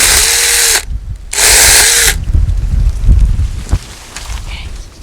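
A handheld power saw cutting branches makes two loud buzzing bursts, each under a second long, separated by a short pause, followed by quieter rustling and snapping of cut branches.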